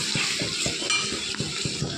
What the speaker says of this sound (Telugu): ఆనియన్స్ అయితే ఫ్రై అయ్యాయి